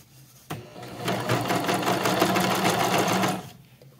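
A serger overlock machine runs a rolled hem along fabric edges, starting abruptly and whirring in a fast, rattling stitch for about three seconds before stopping, close and fairly loud.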